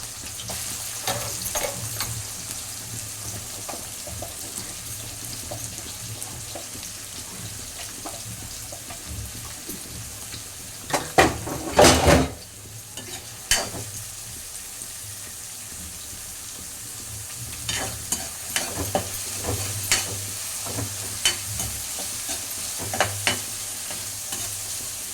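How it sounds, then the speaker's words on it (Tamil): Two large chopped onions fry in a pan, a constant soft sizzle close by, punctuated by clattering stirs with a burst of louder scraping midway and intermittent spoon taps, no voices. "வெங்காயம் வதங்கிறது"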